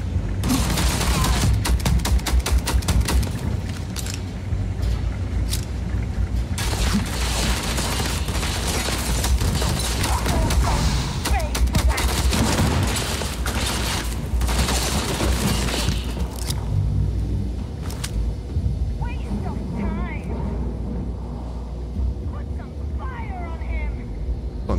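Gunfire in the video game Starfield, heavy rapid bursts of shots and booms crowding the first stretch, then thinning to scattered reports, loud and close, with a voice talking over the fighting.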